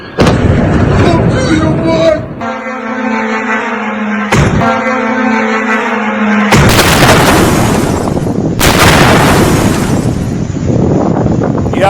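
Missile strikes and explosions in Ukraine sound as heavy booms and sharp blasts over constant wind-battered roar, with a droning tone between bursts and a long rumbling tail, loud and continuous; a voice talks over part of it.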